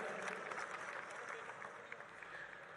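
A dense wash of audience applause fills a hall at a film festival opening ceremony, sustained and moderately loud, with a voice speaking faintly beneath it.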